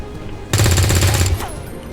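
A single rifle shot from the XCOM video game bursts out sharply, followed by a dense, loud rattle of gunfire lasting under a second before cutting off, with a faint tail afterward.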